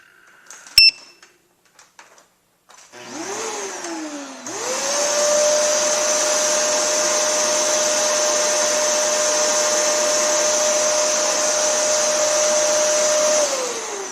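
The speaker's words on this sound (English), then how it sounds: "we're going to start the vacuum with it" A household vacuum cleaner powered from a Renogy 2000 W pure sine wave inverter whines up from a brief start, drops, then settles into a loud, steady motor roar that runs for several seconds before spinning down.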